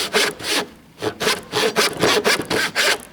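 A hand saw cuts a guide groove in a piece of wood with quick, rhythmic rasping back-and-forth strokes, about nine in three seconds, loud and close, with no speech.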